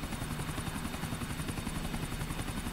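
Helicopter flying in the video game GTA IV, a continuous rhythmic rotor chop with a steady whine, fairly close and loud, heard alone without speech.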